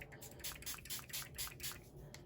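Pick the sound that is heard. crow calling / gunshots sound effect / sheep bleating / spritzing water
spritzing water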